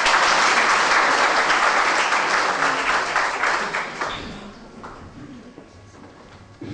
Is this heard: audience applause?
yes